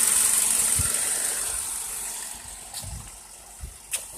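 A 2007 Ford Focus SE with a 2.0-liter four-cylinder engine idles steadily in the open, a smooth continuous hum with a few faint clicks and knocks nearby and no talking.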